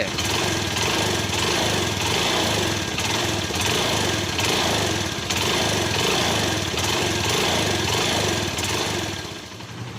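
A vehicle engine running steadily nearby, a loud continuous rattling drone with slight rhythmic pulsing that eases off at the very end, no voices over it.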